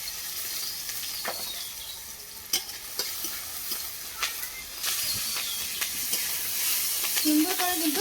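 Jute leaves frying with garlic in a pan on a village cooking fire are stirred, making a steady hiss and sizzle broken by sharp scraping strokes of the spatula, with a louder sputter near the end.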